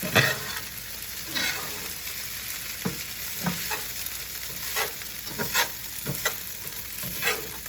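Fried rice splashed with soy sauce sizzles steadily in a hot pan while a utensil scrapes and stirs in repeated strokes, close and loud with no talking.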